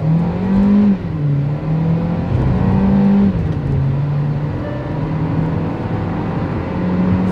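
Kia Carens 1.4L turbo petrol with DCT gearbox accelerating hard at full kick-down, heard from inside the cabin: a loud, steady engine drone that climbs in pitch, with brief dips as the gears shift.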